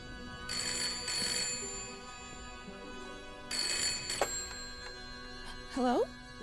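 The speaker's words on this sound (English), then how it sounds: "Phone is ringing." A telephone in the video game Layers of Fear rings in repeated bursts of bright electronic trills, with a short chime in between and a gliding electronic tone near the end.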